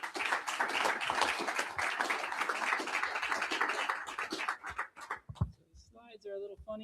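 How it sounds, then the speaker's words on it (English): Audience applause at a European architecture leaders awards ceremony, a steady crowd clapping for about four seconds that thins into scattered claps before a speaker begins talking. "Let's give them a round of applause."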